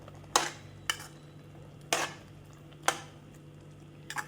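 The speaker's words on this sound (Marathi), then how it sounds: "हे पहा, आता याला छान आपण मिक्स करून घेऊया।" Beetroot halwa mixed with milk cream being stirred in a pan: a spoon scrapes and clinks against the metal in a few separate, sharp strokes over a quiet, steady background hum.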